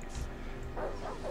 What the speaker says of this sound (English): These dogs can be a bit shit.